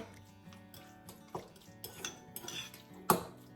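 A metal utensil mixes mashed avocado in a bowl, quick clinks and scrapes against the dish in an uneven rhythm, close and fairly quiet, with one louder clank near the end.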